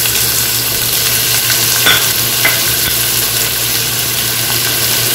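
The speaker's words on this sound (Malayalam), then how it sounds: "ജസ്റ്റ് മീഡിയം ഫ്ലെയിമിലിട്ടിട്ട് വേണം വഴറ്റി കൊടുക്കാൻ." Onion, garlic and dried red chillies sauté in hot oil over a medium flame, producing a steady, dense sizzle with a couple of brief stirring scrapes; no voices.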